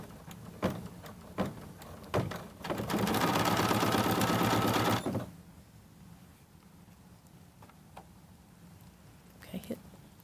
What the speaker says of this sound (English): Now today I'm working on a Bernina 790 Plus with a 6 by 10 hoop